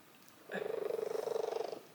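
A cat purrs close and soft for just over a second, a quick rhythmic rumble of repeated pulses after a brief quiet start.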